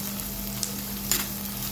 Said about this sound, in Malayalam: സവാള ഇട്ട് കൊടുത്തിട്ടുണ്ട്. സവാളയൊക്കെ നന്നായി ഒന്ന് വഴട്ടി സെറ്റായി വരട്ടെ കേട്ടോ.